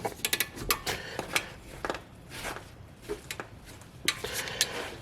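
A ratchet with a 14mm socket clicks in short bursts while tightening brake caliper bolts on a 2019 Hyundai Sonata SE, close-up, with pauses between strokes and faint metallic clunks.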